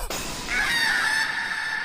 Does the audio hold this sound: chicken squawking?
yes